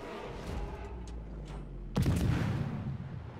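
Main guns of a Z-23, the German Tier 8 destroyer in World of Warships, let off a single heavy boom midway that rolls out over a steady low naval ambience.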